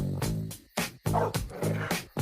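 A trucker's yellow dog, his road companion, gives a series of close whimpers and yips in the cab of a big rig, bursts separated by short pauses.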